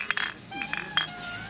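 Several glasses clink together in a toast at a meal of classic red sausage, a few bright rapid chinks close by in a quiet room.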